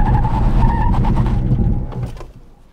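A Toyota bZ4X electric SUV braking hard from 90 km/h with ABS working: a loud sustained tire squeal and road roar with a pulsing tone that fades out as the car comes to a stop.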